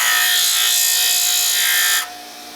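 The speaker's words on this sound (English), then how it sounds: "Grind a flat there on one end" Grinding a flat onto one end of a metal tool blank, a steady harsh abrasive hiss held loud and close for about two seconds before dropping off sharply into a quieter whir as the grinder eases away.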